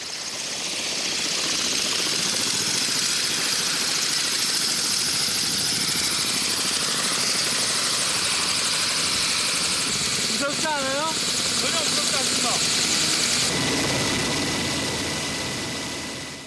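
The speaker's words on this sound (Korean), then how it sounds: "헬기가 이륙 준비를 시작한다." A South Korean military helicopter readies for takeoff outdoors on a windy day, its turbine and rotor roaring as a steady, loud, dense wash throughout, with brief voice snippets and chatter faintly audible over it.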